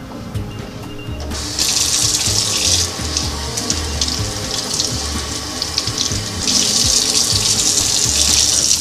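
A watermelon being washed under a running kitchen tap, a quiet start then a loud steady gush of water splashing over the rind, briefly softer midway, close and continuous with no talk.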